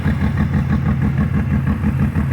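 A Ford Windstar engine idles with no exhaust fitted, giving a raw, steady clattering rumble with a fast, uneven pulse, close and continuous throughout.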